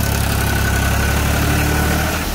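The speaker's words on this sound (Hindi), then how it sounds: "भाई कमेंट करके बताना ट्रैक्टर की परफॉर्मेंस कैसी लग रही है भाई दूसरे के लो में।" Tractor engine running steadily in second gear, loud and close with a constant low rumble and vibration throughout, no voices.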